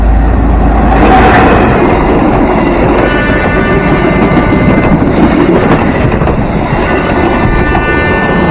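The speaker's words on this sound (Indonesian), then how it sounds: "ternyata kereta api Sibinuang ya, teman-teman, pada pagi hari ini sekitar jam 7" The Sibinuang passenger train runs past near Pariaman and Padang in the morning, a loud, close roar of wheels and carriages with a horn sounding partway through, no speech over it.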